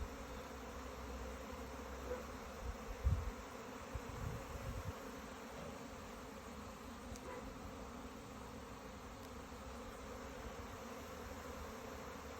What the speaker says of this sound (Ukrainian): як бджолки цікаво по ньому лазять